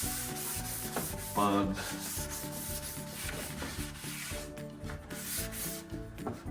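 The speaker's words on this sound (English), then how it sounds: "you're going to sand this down, you're going to get all that oil and grime off of" A Nissan Xterra Pro-4X emblem is sanded by hand to strip off oil and grime, with close, repeated scratchy rubbing strokes that continue steadily throughout.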